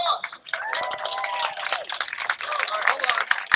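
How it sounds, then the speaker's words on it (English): A crowd at an evening event with a speaker at a podium breaks into busy applause, steady clapping and murmuring voices filling the space throughout, with a few sharper claps standing out near the end. "let's give her a big hand of applause."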